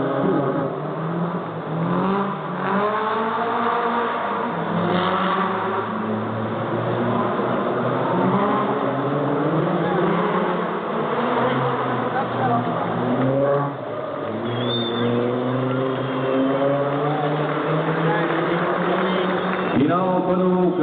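Rally safety cars 0 and 00 run the super special stage at Rally de Portugal, their engines revving and sweeping up and down through gear changes beneath steady commentary.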